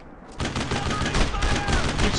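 Sustained suppressing gunfire in the World War II shooter Brothers in Arms, a dense, continuous burst of rifle and machine-gun fire starting abruptly and holding loud throughout.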